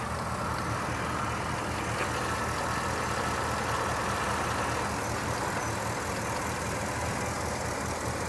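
A 2010 Ford SVT Raptor pickup idles steadily with a constant, dense rumble close by, unchanging throughout with no voices.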